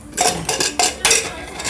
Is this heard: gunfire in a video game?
no